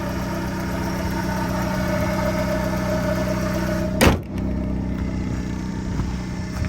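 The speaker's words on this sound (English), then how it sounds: "A little bit of wear and tear in this engine, but not bad." A 1988 Ford Thunderbird Turbo Coupe engine idles steadily up close, a smooth even hum with a brief sharp click or blip near the end.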